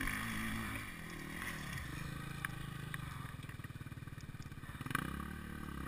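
A Kawasaki KX250 dirt bike engine held at wide-open throttle by accident, a steady loud pulsing roar heard from a helmet or bike-mounted camera, with wind rush throughout.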